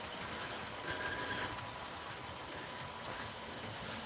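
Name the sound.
coal train passing on a model railroad layout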